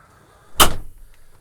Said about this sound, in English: Go ahead and close the door up.